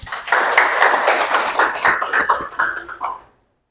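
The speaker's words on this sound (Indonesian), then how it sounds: "Tepuk tangan untuk Eni." A classroom audience during a teacher training session claps together in dense, steady applause for a few seconds before it abruptly stops.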